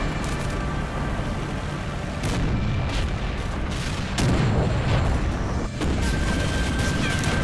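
Artillery and gunfire from a World War II tank game with Sherman tanks, heavy booms and sharp shots landing over a dense, continuous rumble of battle.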